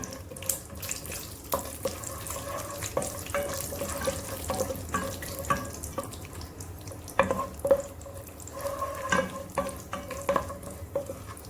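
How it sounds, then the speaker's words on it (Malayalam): Cashew nuts frying in hot ghee for a carrot and banana halwa, giving a steady soft crackle with scattered sharper pops and faint stirring or scraping, close and continuous throughout, with no talking. "അതിൽ അണ്ടിപ്പരിപ്പ് ചേർത്തിട്ട് വറുത്ത് കോരാം."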